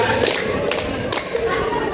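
Group hand clapping in a scout counting game, sharp claps landing in a short rhythmic sequence, loud and close, with voices calling out between the claps.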